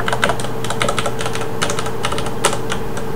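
Rapid, crisp key clicks from a mechanical gaming keyboard, the Element Hanzo KB 1000G, typed in a steady close-up flurry with no voices.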